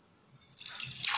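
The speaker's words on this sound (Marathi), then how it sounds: "प्रथम पहिल्या ग्लासमध्ये थोडे पाणी घेऊया" Water pours into a glass for a sound experiment, starting quiet and building into a bright splashing trickle over about a second.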